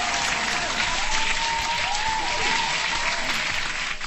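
Dense, continuous applause from a crowd plays at a steady loud level for about four seconds, with no voices over it.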